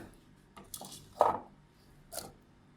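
Chopped potato and carrot go into a pot of cooked dal for sambar, heard as a few light clinks and soft thuds against the vessel, spaced apart in a quiet kitchen.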